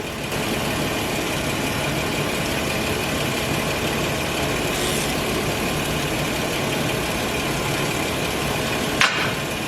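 A Gen 2 Toyota Tacoma truck engine idles steadily in a garage after a radiator replacement, a continuous close, even rumble with one brief click near the end.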